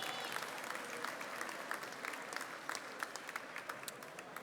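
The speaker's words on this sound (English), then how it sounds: "Give them a round of applause." Crowd applause for the sponsors at a Dominican heritage ceremony hosted by the mayor, heard as a steady field of many hands clapping at a distance, fairly faint and continuous for several seconds.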